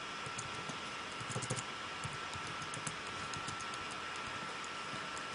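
Keys clatter on a computer keyboard while code is entered in Xcode 4, soft irregular clicks and a brief quick flurry sitting just above a steady background hiss.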